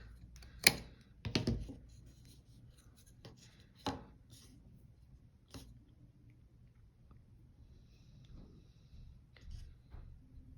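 Scissors cut through weaving yarn during the trimming of a mini weaving: a handful of crisp, close snips, spaced irregularly, with quiet handling in between and no talk.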